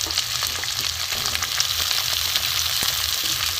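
Vegetables for a vegetarian dalna, drumsticks, beans, flat beans, potato and pumpkin, frying together in hot oil in a pan, a steady close sizzle with faint crackles and occasional stirring scrapes, no talking.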